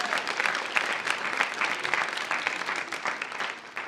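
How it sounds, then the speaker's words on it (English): An audience at the World Bank Youth Summit 2018 claps steadily, a dense, even wash of applause from a large crowd that holds its level throughout without talk on top. "Can we give them a round of applause?"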